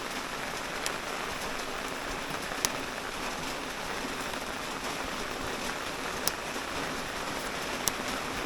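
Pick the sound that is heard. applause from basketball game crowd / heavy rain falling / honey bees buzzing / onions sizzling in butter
heavy rain falling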